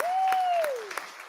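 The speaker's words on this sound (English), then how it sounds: "Give them a big round of applause." Audience applause breaks out at a charity gala auction right after a lot sells, with a long whistle gliding through the clapping for just over a second.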